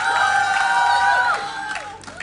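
A live esports crowd at a League of Legends finals cheers and whoops in a loud, sustained swell that fades after a second or so, leaving scattered shouts.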